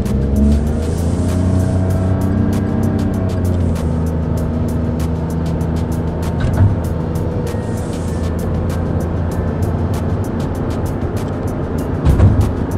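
Toyota Raize G 4WD driving a winding road, steady engine hum from inside the cabin with gear-related pitch shifts and continuous road and tire noise, loud and close.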